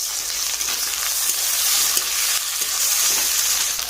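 Onion, chili, bay leaf and spices fry in hot oil for a fish curry, giving a loud, steady, dense sizzle with light stirring scrapes throughout and no talking.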